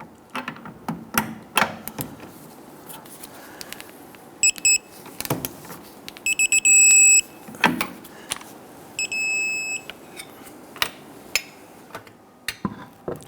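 A torque wrench tightens the sway bar link nuts on a 2011-2021 Jeep Grand Cherokee to 85 foot-pounds, with sharp ratcheting clicks scattered throughout and a few short bursts of bright electronic beeping in the middle.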